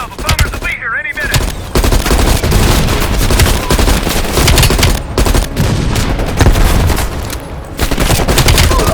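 An enemy machine gun in Call of Duty: Black Ops Cold War fires loud, dense bursts almost without pause, with other gunfire mixed in and voices talking over it.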